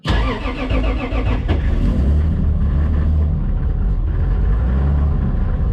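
A Toyota Supra's turbocharged 2JZ engine with an Inconel header cranks and catches on a cold start, then settles into a loud, rumbling idle with a steady low throb, heard up close.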